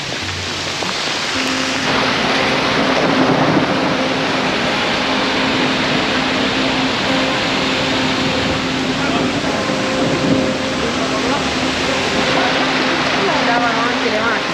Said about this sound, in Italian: Grandine. Anche la grandinata.